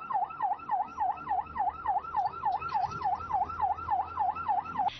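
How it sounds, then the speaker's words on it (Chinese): A police car siren wails in a fast, regular up-and-down cycle, clear and fairly close on a rural road, repeating steadily over low vehicle rumble with no voices. "开启警灯，拉响警报"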